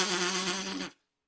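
A voice imitates vocal folds vibrating alone, making a steady nasal buzz like an insect drone that holds for just under a second, then cuts off to silence.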